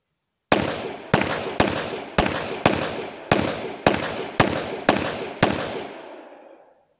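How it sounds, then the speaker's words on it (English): Rapid fire of ten shots from a Micro Roni carbine conversion at a 20-metre range, loud sharp cracks spaced about half a second apart, each with a short decaying tail, the last one ringing out longest. "we're going to see how he gets on with this at 20 meters, firing at rapid fire with 10 rounds"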